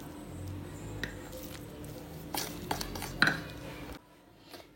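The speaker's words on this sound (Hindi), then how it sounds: "अब हम इसके अंदर थोड़ा सा पानी डाल के तो इसका बना लेते हैं बैटर।" Spiced gram flour batter for cauliflower pakoras being stirred with water in a bowl, giving soft wet squishing and occasional clinks of a utensil against the dish, close and fairly quiet, fading out near the end.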